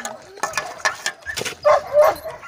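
Several dogs at a shelter whimper and yip close by at feeding time, with short high whines and a few sharp barks in quick bursts.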